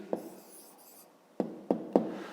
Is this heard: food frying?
no